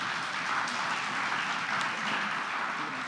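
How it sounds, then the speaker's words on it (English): An audience at a financial services conference applauds a panel, a steady, fairly soft wash of many hands clapping that holds evenly throughout. "Please join me in giving them a round of applause"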